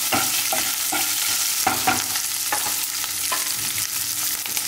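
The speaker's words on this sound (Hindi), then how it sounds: "अब इसमें मैं करी पत्ता डाल रही हूँ, ये थोड़ी ग्रीन चिली बारीक चॉप की हुई।" Curry leaves and finely chopped green chili hit hot oil in a pan of frying dal, giving a steady, loud sizzle throughout with scraping stirring strokes on top and no voices.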